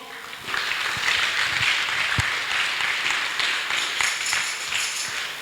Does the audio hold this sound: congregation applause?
yes